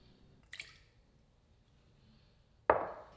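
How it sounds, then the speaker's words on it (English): Eggs cracked into a mixing bowl while making keto biscuits: a brief crisp crack near the start, then a louder sharp crack followed by wet spilling near the end, with quiet gaps between. "He pours the egg whites into the mixing bowl and cracks his final 2 eggs."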